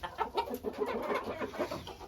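A dwarf Cochin hen clucks in short, close bursts outdoors in winter snow, a quiet run of soft repeated clucks with no talking.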